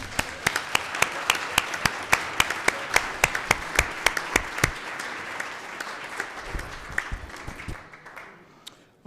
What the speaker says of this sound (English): one last round of applause for all the outgoing elected officials